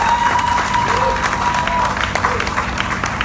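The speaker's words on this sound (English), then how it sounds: "Give yourselves a huge round of applause for that." A crowd at a public meeting applauds, a steady, fairly loud mass of clapping mixed with crowd noise, scattered voices and occasional cheers.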